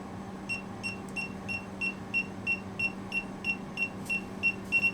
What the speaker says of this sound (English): I'm going to hold the power button underneath until it beeps at me.